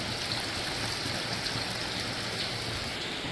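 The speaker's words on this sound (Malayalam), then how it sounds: "ഇനി നമുക്കിതാ പുളിവെള്ളം കൂടി ചേർത്ത് കൊടുക്കാം കേട്ടോ." Tamarind water is poured into a Kerala-style fish curry, making a continuous, soft watery rush that stays even throughout.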